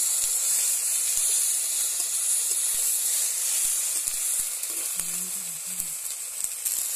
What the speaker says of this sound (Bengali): এই তেলেতে এবার পাঁচ ফোড়নটা দিয়ে দিচ্ছি, দিয়ে কুচানো টমেটো দিয়ে দিলাম